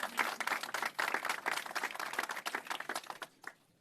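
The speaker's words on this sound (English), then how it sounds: "Yes, you can clap for him." Applause from an audience at a city hall press event on affordable housing, a dense burst of many hands clapping together that tapers off toward the end.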